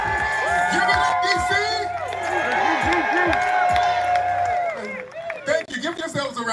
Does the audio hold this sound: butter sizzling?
no